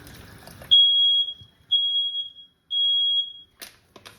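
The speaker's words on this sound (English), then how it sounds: "Excuse the alarm." A kitchen smoke alarm goes off during cooking, sounding three loud, high, steady beeps of about half a second to a second each, with short gaps between them and faint kitchen noise around them.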